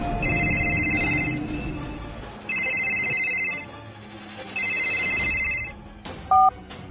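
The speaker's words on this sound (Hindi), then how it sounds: "फोन की घंटी बजी" A telephone rings in three long electronic bursts with pauses between, followed by a short beep.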